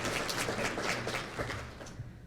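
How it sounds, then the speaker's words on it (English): Audience applause at a medical research conference session, a steady wash of many hands clapping at moderate volume for a couple of seconds before tapering off, with no voices over it. "I just want to take a moment and clap for everyone who has taken advantage of this amazing opportunity"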